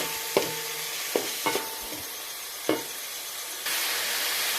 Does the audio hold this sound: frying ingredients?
yes